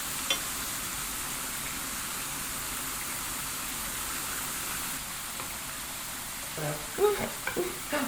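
Steady hiss of sugared sweet potato chips frying in hot oil, a continuous sizzle with a few louder crackles and clinks near the end.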